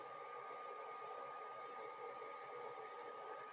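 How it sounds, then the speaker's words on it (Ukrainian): The cooling fan of a battery charger charging a 12V 100Ah LiFePO4 battery whirs steadily with a faint, even hum and high whine, quiet and unchanging, with no one speaking. "Кулер вже працює голосніше."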